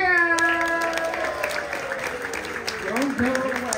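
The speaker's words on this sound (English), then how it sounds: "Let's give her a big cheer." At an event in Blackpool, an audience bursts into cheering and applause, a loud wash of clapping from a crowd, while a long descending tone fades out behind it.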